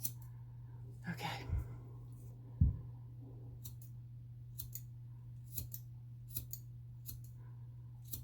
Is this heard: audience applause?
no